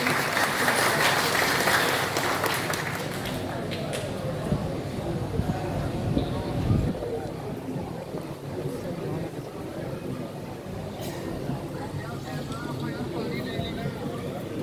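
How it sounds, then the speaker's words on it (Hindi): Continuous applause from a large crowd at a Pakistan Independence Day celebration in Bahrain fills the whole stretch, steady and dense, with a voice briefly audible early on. "भरपूर तालियां जी"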